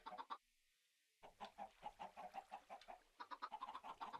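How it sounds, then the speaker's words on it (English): Chickens in the Minecraft video game cluck in quick rhythmic bursts, close and clear, with a brief gap of silence early on. "Oh, chickens."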